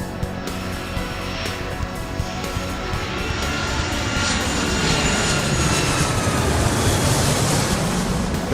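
Airliner jet engines rumble and whine steadily in Airport Madness 3 as planes taxi toward the runway, a continuous broad drone that swells slightly toward the end, with no talking.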